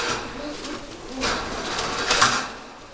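Stock pigeons in a loft give soft, low cooing calls, a few brief phrases over a background of rustling and faint clatter.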